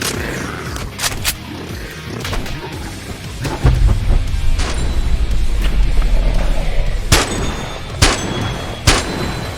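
A STEN gun fires in the virtual reality game Boneworks: loud, widely spaced single shots with metallic clanks and a low rumble in between, the slow rate of fire coming through plainly.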